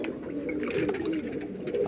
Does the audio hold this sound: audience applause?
no